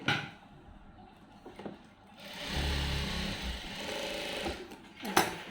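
A sewing machine stitches a lined blouse, running in a steady mechanical whir for several seconds after a quieter start, with a sharp click near the end.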